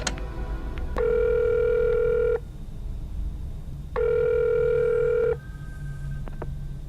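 In the video game Friday the 13th: The Virtual Cabin, a rotary phone's line gives two long steady tones separated by a pause, loud and close over a low background rumble and faint clicks.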